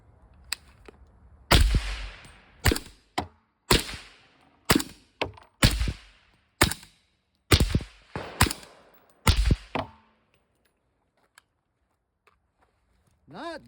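Suppressed rifle firing Fiocchi 150-grain subsonic and Ammo Inc. 220-grain supersonic rounds, alternating: about a dozen sharp, loud muffled cracks at irregular intervals, followed by near silence with a faint tone at the end.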